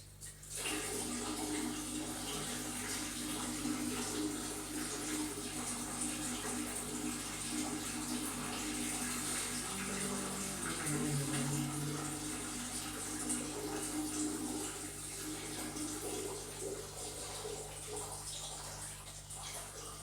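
Water running steadily from a tap into a basin for about twenty seconds, a continuous close splashing flow with faint background noise, no speech.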